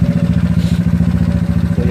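A GY6 scooter engine fitted with an OKO PWK 30mm carburetor runs at a steady idle, its even low pulsing beat close and continuous throughout, with a faint clatter on top.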